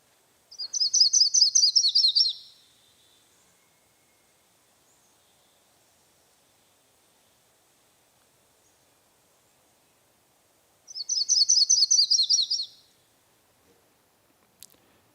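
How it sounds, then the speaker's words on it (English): A yellow-rumped warbler sings two quick, high trilling phrases of rapid staccato notes, each about two seconds long and separated by a long silent pause, clear and alone. "One is the yellow-rumped warbler."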